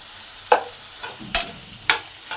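Potatoes frying with salt and turmeric in a pan, a spatula scraping through them in four distinct strokes spaced about half a second apart, each a short close scrape over a faint sizzle.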